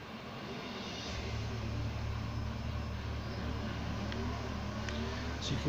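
Racing video game played on an easy track with a Gamesir G4S Bluetooth controller on Android: a steady, loud engine drone with shifting pitch runs throughout, car sounds continuous and alone.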